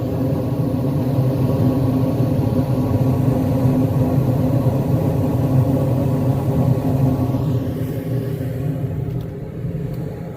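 A home furnace fires up on a call for heat and settles into a steady, loud, close rumbling drone that holds evenly throughout, fading slightly near the end, with no talk over it.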